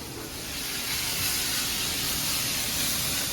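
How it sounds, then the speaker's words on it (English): Onions and peppers sizzle in a hot skillet for a Philly cheesesteak, a dense, bright, constant hiss that swells slightly and holds steady, close and loud with no talk. "we're just going to sweat those onions and those peppers out a little bit"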